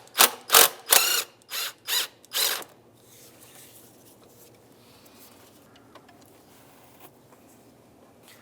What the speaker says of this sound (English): We're going to remove the top bolt connecting it to the throttle body itself.